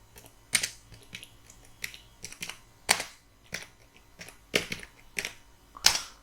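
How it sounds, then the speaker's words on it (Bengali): Someone types a search query into Google on a computer keyboard. Short clusters of key clacks come in irregular bursts with pauses between them, close by and moderately loud, with no voices. "গুগলে গিয়ে আমি এখানে লিখব ডাউনলোড নক্স প্লেয়ার।"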